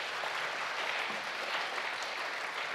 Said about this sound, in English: Let's give our panelists a round of warm applause